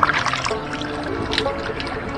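Water pours and trickles from a wet pool filter ball as it is squeezed after being dunked in a swimming pool, a continuous splashy dribble heard close and fairly loud with no voices.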